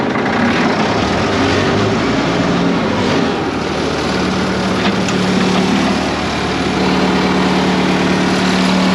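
An engine running steadily at idle in a workshop after reassembly of its linkage arms, a loud continuous drone with a constant low hum and no one speaking.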